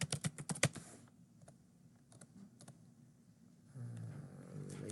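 Computer keyboard typing, a quick burst of loud clustered keystrokes at the start, then sparse scattered taps over a quiet room background, with a low rumble rising near the end.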